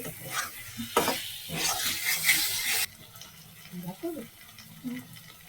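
Water poured into hot oil in a pan for a mushroom curry sets off a loud, hissing sizzle burst lasting about two seconds, then settles into quieter bubbling and clatter with faint voices nearby.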